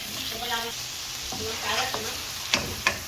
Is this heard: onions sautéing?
yes